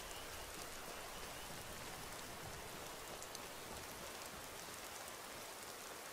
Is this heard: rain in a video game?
yes